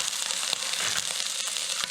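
Red pepper flakes sizzle in a pan for arrabbiata pasta, a loud, dense and continuous hiss with faint crackles. No one speaks.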